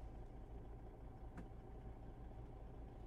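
A Kenworth K100E truck engine idles in a low, steady rumble in American Truck Simulator, quiet and even, with one brief click partway through.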